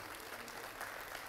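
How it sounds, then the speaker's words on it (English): A church congregation applauds youth trip sponsors, a faint, steady wash of many hands clapping heard from a distance. "I think we should give a round of applause to those sponsors that went on that trip."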